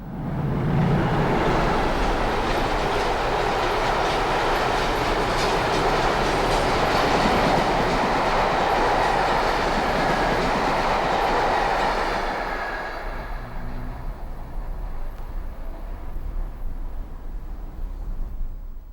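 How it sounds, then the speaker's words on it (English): A cement train on the main line rumbles past close by, loud and steady with clattering wheels, then the noise drops away as it recedes. "A cement train on the main line, logged as 1 year earlier in 1963."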